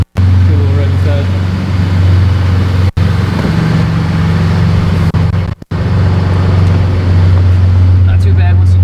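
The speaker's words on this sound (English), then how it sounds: "See a little rev inside." A loud V12 engine in someone's Toyota Supra drones steadily from inside the car, with a brief rev and a couple of sharp dropouts, while people talk over it.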